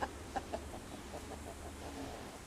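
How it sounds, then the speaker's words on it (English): Chickens being let out cluck softly in a yard, with a few sharper clucks near the start over a low, steady background hum. "I'm going to let the chickens out here."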